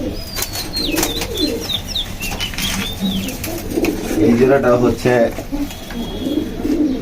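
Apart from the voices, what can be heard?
pigeons flapping wings and cooing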